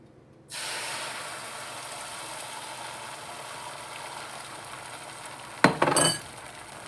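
Beaten egg poured into a pan with melted butter for a vegetable omelette, a sudden steady frying hiss that starts abruptly and holds at moderate level, with a brief louder crackle near the end.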